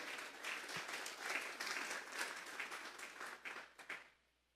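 A church congregation at a Sunday service claps as an offering to God, a dense sustained wave of applause for about four seconds that thins to a few scattered claps and then stops.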